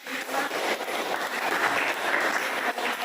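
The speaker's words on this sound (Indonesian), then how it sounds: "Kita beri tepuk tangan untuk kita" Applause from a classroom group after a presentation, a dense continuous patter of many hands clapping at moderate volume, steady with no talk over it.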